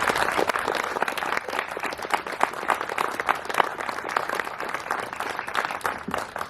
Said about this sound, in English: Will you please honor, with your claps and your applause, Chief Donnell Tanksley.